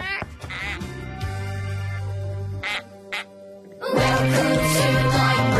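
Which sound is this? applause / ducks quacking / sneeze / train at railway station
ducks quacking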